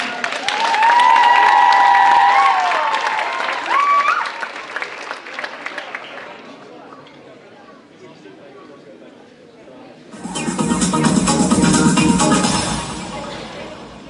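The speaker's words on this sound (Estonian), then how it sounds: "Ja palun aplausi!" Applause at a school PlayBox show, building from a crowd of clapping and chatter with singing or music over it early on, dipping quiet in the middle, then surging loud again near the end.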